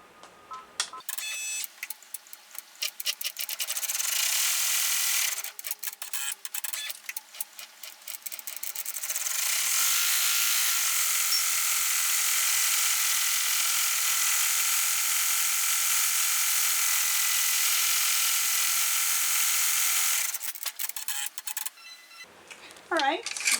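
An embroidery machine stitches out a luggage tag, a fast, steady mechanical whirring and ticking heard close up for a long stretch, with brief pauses and shifts in rhythm at the start and end.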